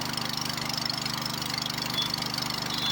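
A 5 HP petrol engine driving a farm water pump runs steadily nearby, a continuous mid-pitched throbbing hum with an even rhythm and no talk over it.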